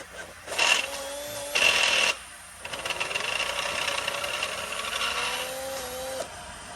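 A drill bores out the stripped drain plug hole of a BMW aluminum oil pan, with short whining bursts followed by a longer sustained grinding run, close and fairly loud.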